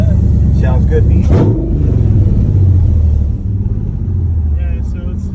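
A supercharged LT4 engine in a Superformance Corvette Grand Sport replica, roughly 600 horsepower, revving hard in a brief loud burst, then rumbling at a heavy idle, with a person talking over it.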